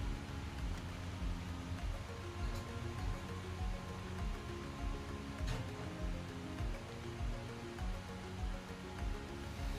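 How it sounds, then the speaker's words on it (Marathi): Water pours off soaked chana dal in a home kitchen, a steady, close splashing rush that runs unbroken for the whole stretch with no talking. "हे पाणी मी टाकून देते आणि हे परत पाणी ओतून घेणार आहे मी"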